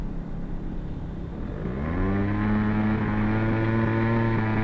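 Aprilia SR50 scooter engine idling low, then revving up into a steady high, slightly uneven drone that sputters and wavers while holding revs; loud and close with no talk.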